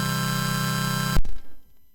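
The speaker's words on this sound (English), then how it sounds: "And so now I'm combining all 6 of those tones at once." Six tones played at once on an AY-3-8910 programmable sound generator chip form a dense, buzzy square-wave chord that holds steadily, then cuts off abruptly, leaving brief low electronic noise.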